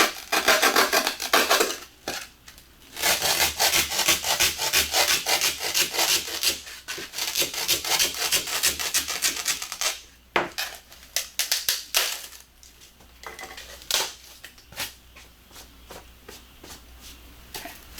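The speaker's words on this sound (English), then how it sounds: "that's where the styrofoam cutter comes in handy" Continuous rough rubbing and sawing of styrofoam with a foam cutter, loud and close, in long strokes with brief pauses, no talking.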